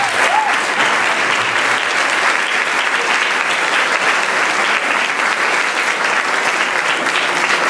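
Sustained, dense audience applause fills a Christmas band concert in a municipal auditorium, steady and loud throughout with no speech over it.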